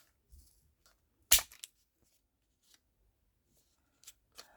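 Scissors snip the corners of a folded paper box, one sharp close cut followed by a few faint small snips and paper rustles in a quiet room.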